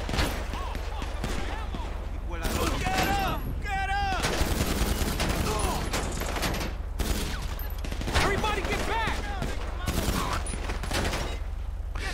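Gunfire in a video game livestream mission rattles in dense, continuous bursts and rapid shots, close and loud under a constant low hum, with someone talking over it.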